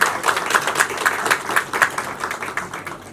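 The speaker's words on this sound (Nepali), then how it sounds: "भैरव दाइ सबैले उहाँलाई ताली बजाएर स्वागत गरिदिनु" Applause from a gathered crowd welcoming a guest named Bhairav at a royalist political meeting in Nepal, a steady roll of many hands clapping throughout, fairly distant and diffuse with no speech over it.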